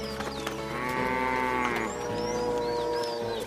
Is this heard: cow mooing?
yes